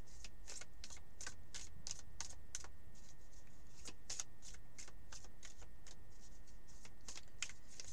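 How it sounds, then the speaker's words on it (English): Tarot cards are shuffled by hand in short, crisp riffling bursts, repeated in an irregular rhythm, close and fairly quiet, with no talking. "Just give the cards a good shuffle."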